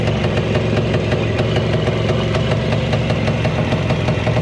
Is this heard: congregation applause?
no